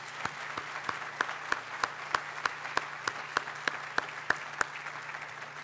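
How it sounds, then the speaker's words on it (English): An audience at a groundbreaking ceremony applauds, with a soft bed of scattered clapping and sharp claps landing at a regular, almost metronomic beat, moderately quiet throughout. "I think we need to give another round of applause."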